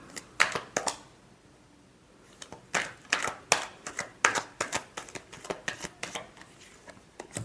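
Tarot cards shuffled by hand in quick riffling bursts, a pause, then a run of crisp, close flicks and slaps with no talking.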